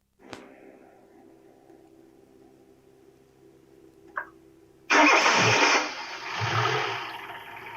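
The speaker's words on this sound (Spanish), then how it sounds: "el motor arrancó de todas maneras" Car engine with its vacuum sensor disconnected: a faint click and quiet hum, a brief clunk, then the starter catches and the engine bursts into a loud, close roar that settles into a steady idle.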